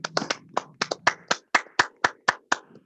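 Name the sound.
people clapping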